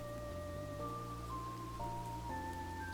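Rain falling in the mountains in Minecraft, a steady even hiss running throughout beneath sustained tonal game music, fairly quiet with no talk.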